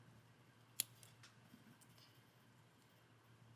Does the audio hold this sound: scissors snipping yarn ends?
yes